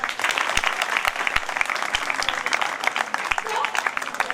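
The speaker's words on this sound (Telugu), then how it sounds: "వాళ్ళకి ఒక్కసారి మనం అందరం ఇంకోసారి గట్టిగా చప్పట్లు కొడదాం." An audience at a Mother's Day celebration at a girls' school claps loudly and steadily for mothers, a dense, continuous round of applause with sharp individual claps standing out.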